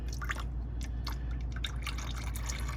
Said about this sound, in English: you're going to start seeing some of the oil dripping out